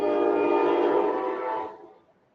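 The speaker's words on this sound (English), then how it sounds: "Anyone hear that train?" A train in New York City passes outside an open window with a loud, sustained horn blast over a rumbling roar, then fades away over about two seconds.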